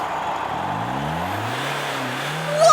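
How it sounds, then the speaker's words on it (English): Monster trucks roaring at a monster truck rally, a continuous engine rumble with rising revving sweeps that swell toward the end, loud and without talk. "It's a crowd cheering and monster trucks roaring!"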